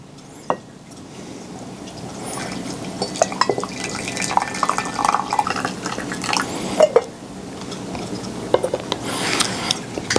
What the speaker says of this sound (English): And then we just pour some of the hot water to go ahead and get that steeping.